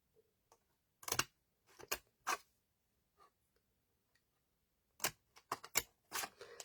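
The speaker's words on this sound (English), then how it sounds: "you just want to now cut roughly into 3 strips" Scissors cutting paper into strips for a papercraft basket: a series of close, crisp snips in separate short bursts with gaps of quiet between them, no voice.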